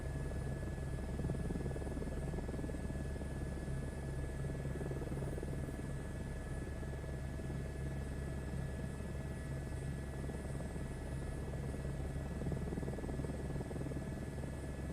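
A video game helicopter flies at altitude with a constant, droning rotor and engine hum, steady and unvarying throughout, with a high whine layered above the low thrum and no voices.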